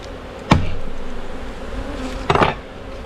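Honey bees hum steadily at a hive during late summer, a continuous low drone close by, broken by two sharp knocks or thumps against the hive.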